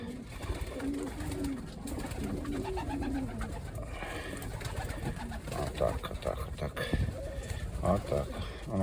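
Young pigeons cooing in a loft, soft low coos repeating over a steady murmur of nearby birds, with a voice talking through much of it.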